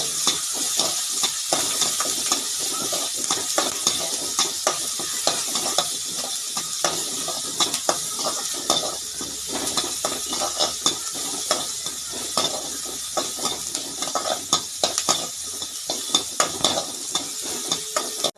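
Bottle gourd pieces sizzle in a pan of hot oil with mustard seeds, onion and curry leaves, while a spoon repeatedly scrapes and stirs. The frying hiss stays steady and close, broken by frequent clicks of the stirring.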